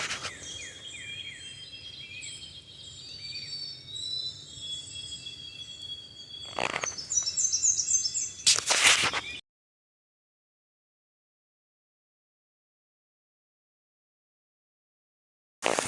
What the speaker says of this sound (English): How do they even tell through all the birds? Listen to this.